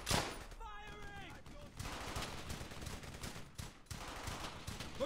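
Gunfire in the World War II shooter Brothers in Arms: Hell's Highway, a steady spread of shots and bursts running throughout under battle noise, with a shouted voice near the start.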